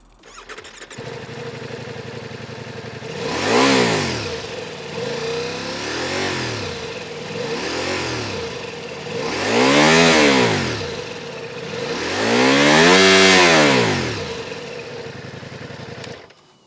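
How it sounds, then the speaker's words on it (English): A 2024 Ducati Multistrada V4 Rally motorcycle idling steadily, then revved several times in rising and falling bursts, the last ones loudest, close to the exhaust with no speech. "a lot of you guys want to listen to the exhaust sound of this Ducati"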